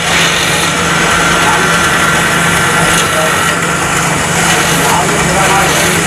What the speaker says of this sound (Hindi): अब ये जो ड्रिल मशीन है, ड्रिल मशीन के अंदर इसके अंदर 3 छेद किए जाएंगे।